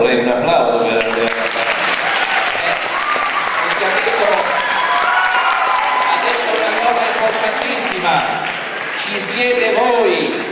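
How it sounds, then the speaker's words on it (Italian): An audience at an Italian conference on the Templars breaks into loud, sustained applause that fills the room for about ten seconds, with voices audible beneath the clapping. "Scusate, io vorrei un applauso per te."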